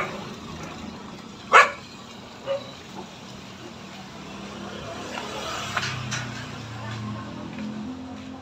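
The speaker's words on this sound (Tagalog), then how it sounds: "tapang ng aso namin ah" A dog gives one sharp, fairly close bark and a couple of softer follow-up yips, then faint background sounds carry on.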